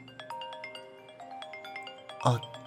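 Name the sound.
phone ringtone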